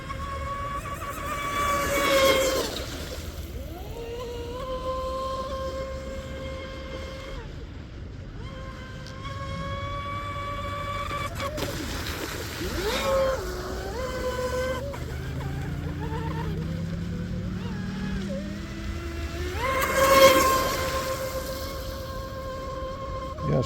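A carbon fiber Hydro&Marine Batboat MKIII RC boat runs at full throttle, a high, whining motor with pitch sweeping up and down as it passes, loudest in several surges, heard from the shore.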